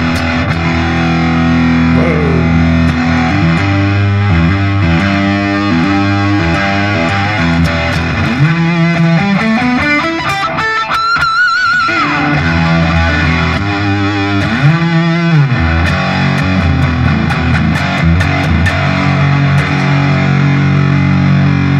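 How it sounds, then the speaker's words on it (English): A PRS SE Custom 24 electric guitar on its humbucker plays power chords through a Rat distortion pedal, a thick, loud, continuous saturated tone with sliding chord changes and no voices. "Alright, let's try now some distortion. I got this rat pedal here."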